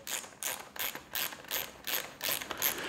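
A ratchet wrench clicks in repeated bursts while undoing bolts on a Specialized Levo e-bike frame during a bearing change, close and fairly quiet, with no talking.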